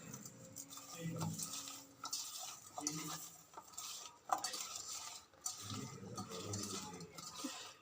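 Repeated scraping and clinking of a spoon stirring eggplant with turmeric and salt in a pan for kathirikai poriyal, fairly close, with a voice talking intermittently over it.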